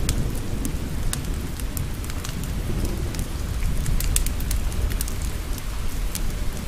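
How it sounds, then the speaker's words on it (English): Steady rain falls with a dense, even patter, scattered sharper drips and a low rumble beneath that suggests distant thunder, with no voices. "Focus on the sound of cleansing rain,"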